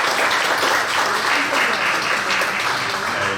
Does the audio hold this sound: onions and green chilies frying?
no